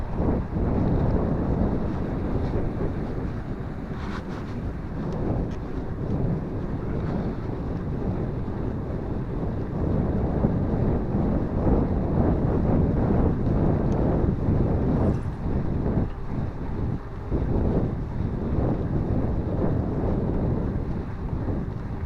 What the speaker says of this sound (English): Got a slight headwind today.